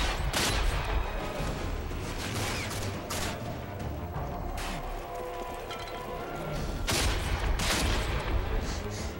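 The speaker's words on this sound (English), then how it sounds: "Two shots with the shotgun and they're down." Shotgun fire in the game RAGE during combat against enemies, heavy blasts and crashes repeating over a dense, loud battle din, with sharp booming shots standing out near the start, middle and end.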